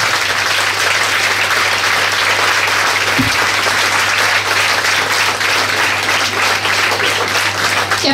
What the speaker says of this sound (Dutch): Toch, dames en heren, mag ik alsjeblieft een heel groot applaus voor Elke.